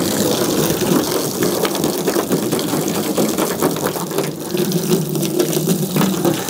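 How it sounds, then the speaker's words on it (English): Water from a hose gushes steadily over the painted body of a car being rinsed off after a Cerakote Rapid Ceramic coating test, a loud continuous spray with no talking. "Let me go ahead and rinse it off and then I'll wipe it again."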